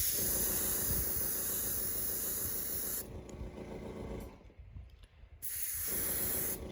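Orange base coat being sprayed onto a realistic bluegill fishing lure: a steady close hiss for about three seconds, a short pause with fainter sputtering, then a second strong burst of spray.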